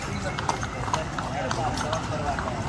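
Horses in the car-free hill town of Matheran give light, irregular clip-clop hoofbeats on the road, mixed into outdoor crowd noise while people talk nearby.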